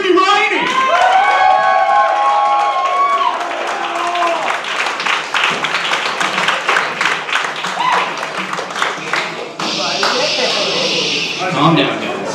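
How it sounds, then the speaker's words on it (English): Comedy showcase audience in Bellingham applauding and cheering for the last performer of the night, loud sustained clapping with whoops and shouts, a brief dip and then a renewed surge near the end, with voices mixed into the crowd noise. "put your hands together for the very funny, your last performer of the night, so get all the energy you have, yeah, and clap for Timmy Riney!"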